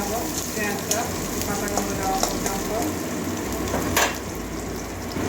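Chopped onion frying in hot oil, a continuous close crackling sizzle with a few small pops and stirring clicks, with no one speaking.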